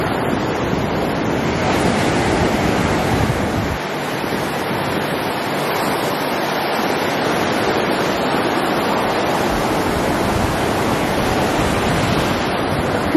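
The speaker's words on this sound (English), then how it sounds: "we'll just try and get a white water wave so we get at least one wave on camera." Ocean surf on the Southern California coast, white water waves breaking in a continuous loud roar with heavy wind buffeting the microphone, no voices.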